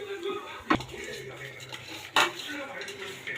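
Chicken curry with masala being stirred in a pot, two sharp utensil clanks against the pot standing out over a low steady background, with no talking.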